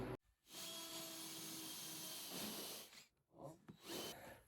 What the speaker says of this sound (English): I'm gonna drill holes in my roof